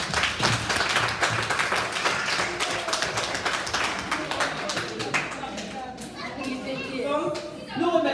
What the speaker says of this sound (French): On va applaudir pour la sœur Sylvie.